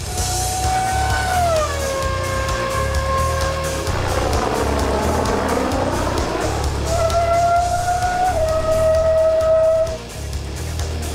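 A Red Bull Racing Formula 1 car with Tom Cruise at the wheel on a test drive gives a loud, continuous high-pitched engine whine that drops, swoops and climbs again as the revs change.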